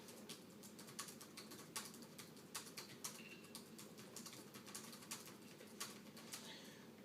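Typing on the replacement keyboard of a Compaq Evo N400c laptop, quick irregular clicks and taps close by at a soft level, with no speech.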